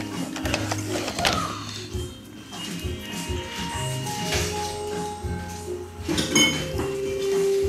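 An iRobot Roomba 560 vacuum flipped over and handled, close plastic clicks, knocks and rattles scattered irregularly, with a few sharper clatters near the end.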